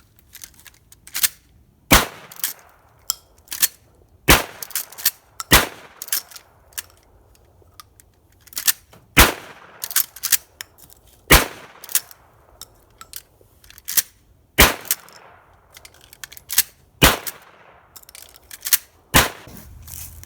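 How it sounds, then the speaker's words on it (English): Gunshots are fired at a fruitcake, each one a loud, sharp report in a long irregular series, separated by short quiet gaps and a few softer clicks. "All right, let's get to shooting some fruitcake."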